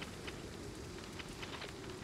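Rain falls in the train-driving game Train Sim World 4, a faint, steady hiss of patter with soft drop ticks that lasts the whole moment, with no talking.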